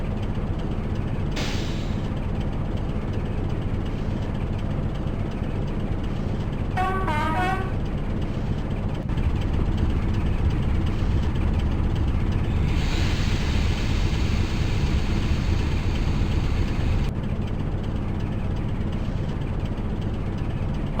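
Class 25 diesel locomotive, Keighley & Worth Valley 25059, idling in the Open Rails train simulator: a steady low engine throb runs throughout, with a brief horn-like toot and a hiss of air partway through.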